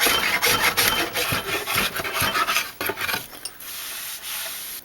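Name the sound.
draw knife smoothing the sides of a walnut wooden tray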